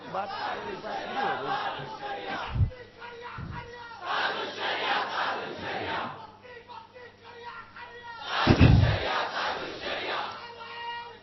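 An audience at a religious lecture chants slogans in unison, loud call-and-response bursts of massed voices rising and falling in waves, with a sharp peak of shouting near the end.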